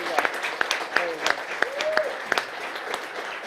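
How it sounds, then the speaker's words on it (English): An audience at a William S. Hart Union School District board meeting applauds La Mesa teachers, with scattered, uneven claps and voices talking and calling out over them. "Let's give them a round of applause."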